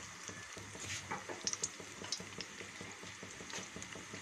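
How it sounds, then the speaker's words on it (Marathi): Cheesy noodle pakoras frying in hot oil, a soft steady sizzle with light stirring clinks and scrapes of a utensil in the pan, close but faint. "तर चला आपण गरम तेलामध्ये आपले चीजी नूडल्स पकोडा छान असे फ्राय करून घेऊया."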